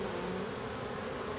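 Honeybees buzzing steadily in a dense, continuous hum during an opened-hive inspection in September, close and even throughout.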